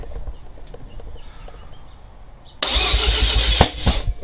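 A 1988 Mazda RX-7 FC3S rotary engine with a big turbo and Haltech Elite 1500 fires up for the first time: quiet cranking clicks, then an abrupt loud catch into a rough, sputtering idle punctuated by a sharp backfire pop.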